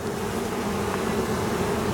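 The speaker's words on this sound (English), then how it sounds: "So I got a lot of bees." Honey bees drone in a dense, steady buzz around an open beehive, a continuous hum from many insects close by with no pauses.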